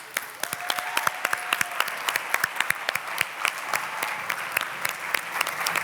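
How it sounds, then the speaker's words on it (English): Audience applause at an award ceremony, a steady close patter of many hands clapping with sharp individual claps standing out throughout, no speech. "join us in celebrating them with applause"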